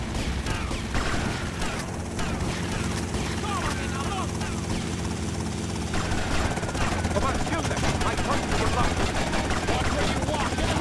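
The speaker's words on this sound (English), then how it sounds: "Oh my god, they've got a helicopter!" A helicopter in the video game GTA Vice City thrums with a steady, loud rotor drone alongside bursts of gunfire and game action noise, continuous throughout.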